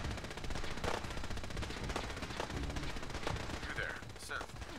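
Automated turrets in Fallout 4 fire a continuous rapid rattle of gunshots, dense and unbroken, with a few sharper cracks standing out over the constant stream.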